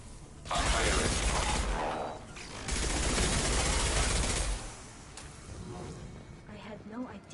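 Sustained gunfire and heavy combat noise in the video game Mass Effect, two long loud bursts separated by a brief dip, then fading to lower background rumble with a voice faintly present.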